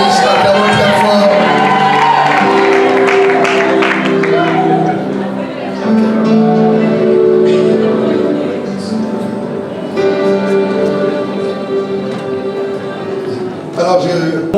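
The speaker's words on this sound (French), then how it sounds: "Acclamons très fort." A congregation at a religious wedding cheers and shouts for the newly married couple, a loud, dense crowd roar that runs without a break from start to finish.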